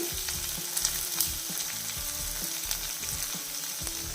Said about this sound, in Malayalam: ഒരു മീഡിയം സൈസ് സവോള കട്ട് ചെയ്തത് അതിട്ട് കൊടുക്കുന്നു